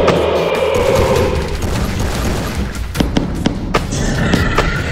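Gunfire in a Free Fire animated battle against a scorpion: a dense rattle of shots fills the first seconds, followed by several sharp separate cracks near the end.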